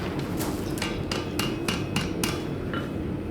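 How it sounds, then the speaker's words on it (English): A blacksmith hammers a hook bent over an anvil horn, about nine sharp ringing metal blows in a steady, fairly quick rhythm, close and loud, with no talking. "I'm gonna hook over just the horn and then hit it on the back, which will straighten the hook out"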